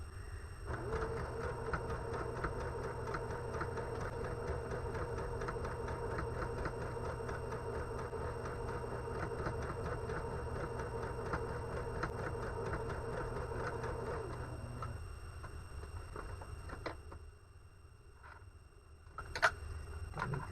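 A sewing machine runs a quarter-inch seam on a windmill quilt block, whirring in a fast, even mechanical rhythm for about fifteen seconds before stopping, followed by a few quiet clicks and a sharp tick near the end.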